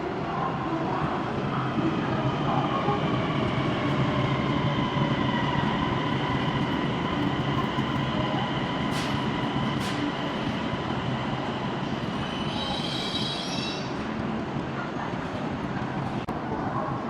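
A high-speed CRH1A-series train of China Railway runs through Shenzhen North Railway Station, a loud, steady rolling rumble and rail hum with continuous wheel noise and brief higher squeals, no voices.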